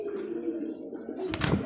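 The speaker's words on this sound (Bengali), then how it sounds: "এটার আগে নরটার ডাকটা দেখাচ্ছি," A male pigeon coos close by, a low murmuring call that runs steadily through the stretch, with a brighter burst of wing or body movement near the end; no one speaks.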